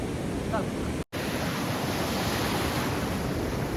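Sea waves wash against the shore during traditional net fishing, a dense, continuous roar of surf mixed with wind buffeting the microphone, loud and close, with one brief dropout.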